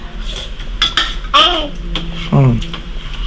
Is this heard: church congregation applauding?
no